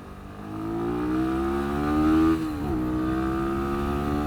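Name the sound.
Sinnis SM-R 125cc supermoto engine at full throttle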